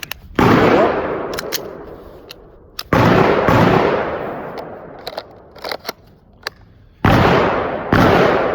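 Handgun shots ring out at an outdoor shooting range, sharp loud reports in small irregular bursts with decaying echoes, separated by quieter clicks and handling noises.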